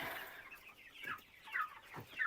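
Broiler chickens clucking on a small farm, several soft repeated clucks at close to moderate distance, with no talk over them.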